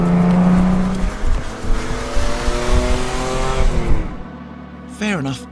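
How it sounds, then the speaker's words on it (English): A 1972 Ford Capri RS 2600 driving fast on the road, its engine revving loudly and steadily through the gears before the roar drops away, with a voice talking over it. "even in 2019, the RS 2600 still feels properly rapid"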